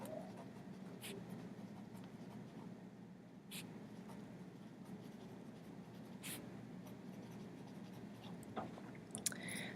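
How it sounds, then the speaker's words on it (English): Faint pen or marker strokes writing on a board or paper during a math lesson, soft scratchy marks with a few sharper ticks over a steady low room hum. "So I'm going to write that down."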